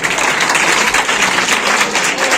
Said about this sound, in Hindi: यहाँ के स्टाफ के लिए आप लोग एक बार ताली बजा दीजिए।